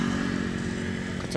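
The engine of a silver 2020 Honda Beat Street scooter runs at a steady idle with a close, even drone and a faint rattle throughout.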